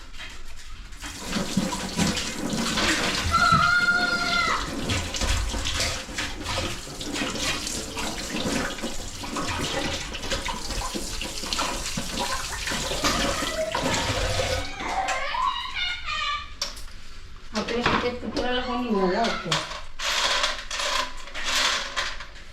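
Guavas being washed under running tap water in a home kitchen, a loud steady gush and splash with clinking and handling sounds near the end, close up and without talk.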